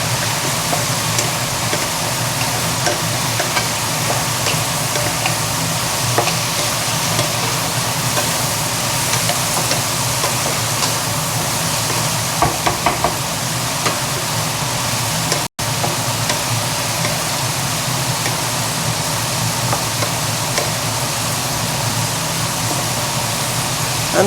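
Cauliflower chorchori fries in a pan on the stove, giving a steady, even sizzle that hisses continuously for about twenty seconds with faint stirring, and no one talks.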